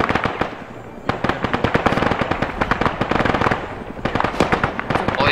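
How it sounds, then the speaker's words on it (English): Rapid bursts of heavy .50 cal machine gun fire in a video game battle, dense cracking shots hammering on in uneven volleys with a brief lull near the middle, loud and close. "Permission to fire on the 50 cals."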